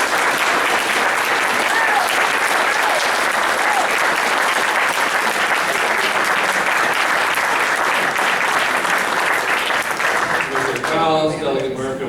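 Sustained audience applause at a Chamber of Commerce candidates forum for county commissioner president, loud and continuous for about eleven seconds before tapering off as a voice begins speaking near the end.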